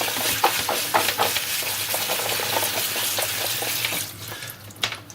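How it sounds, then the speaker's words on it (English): Brussels sprouts in a colander being rinsed under a running kitchen tap, giving a steady close splash of water with small clatters as the sprouts are moved about, easing off near the end. "we're now going to wash the Brussels sprouts under a running tap"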